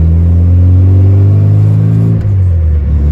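A 1992 classic Mini Cooper 1380 engine drones steadily from inside the cabin, a loud low rumble with a slight dip in pitch partway through.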